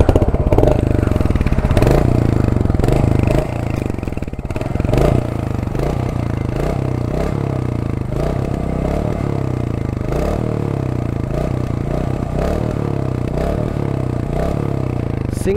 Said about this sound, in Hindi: एग्जॉस्ट नोट सुनाता हूँ, काफ़ी प्यारा एग्जॉस्ट नोट है इसका